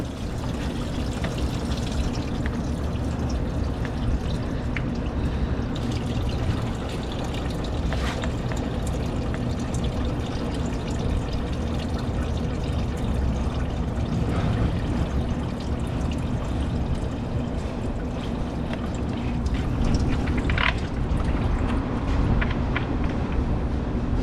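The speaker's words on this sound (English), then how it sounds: "at the bottom of our radiator, right in the middle, we have our drain screw. I got my catch can down there too, just in case there's any coolant left." Coolant drains from a car radiator's bottom drain screw into a catch can, a steady continuous pouring trickle heard close up for the whole stretch.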